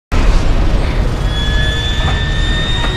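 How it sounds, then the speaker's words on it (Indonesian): A loud sudden boom erupts and rolls on as a sustained, roaring rumble with a faint high whine above it, as objects near an alien Phantom explode after gunfire in an animated film. "beberapa benda di dekat Phantom tersebut pun meledak dengan hebat terkena tembakan Gray."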